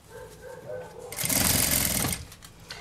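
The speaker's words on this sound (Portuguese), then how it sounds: "passar uma costura abraçando assim o, a telinha" A sewing machine stitches mesh fabric along the edge of a beach bag in one steady close burst of rapid mechanical whirring lasting about a second, with someone talking before and around it.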